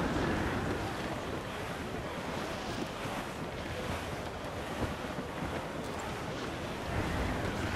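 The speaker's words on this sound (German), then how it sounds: "Der Wind wird immer stärker, Captain." Stormy sea in the pirate game Assassin's Creed IV: Black Flag, with strong gusting wind and crashing ocean waves roaring steadily and loudly throughout, a dense continuous wash of noise with no speech.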